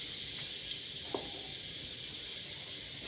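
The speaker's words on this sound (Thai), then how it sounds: "ใส่น้ำมันพืชลงไป ตามด้วยกระเทียมโขลกหยาบนิดหน่อยนะคะ" Coarsely pounded garlic frying in vegetable oil for a Thai sweet and sour stir-fry, giving a steady, soft, close sizzle with a few faint pops and no talking.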